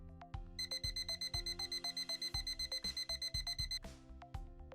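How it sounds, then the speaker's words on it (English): A Traceable 4730 refrigerator/freezer thermometer alarm: rapid electronic beeping, repeated short tones in a fast steady rhythm, ringing continuously and fairly loud. "When your 4730 thermometer alarms, it will continuously ring for 60 seconds."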